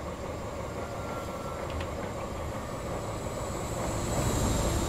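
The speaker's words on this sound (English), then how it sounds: "Off goes the HST and the GWR livery." HST train in GWR livery departing Newport station in Train Simulator, a steady diesel engine drone and rail rumble that builds slightly as it pulls away, with no talk over it.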